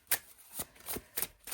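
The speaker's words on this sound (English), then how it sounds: "shuffle it up a bit" Oracle cards being shuffled by hand, several soft, quick riffling bursts in an uneven rhythm, close and quiet with no talking.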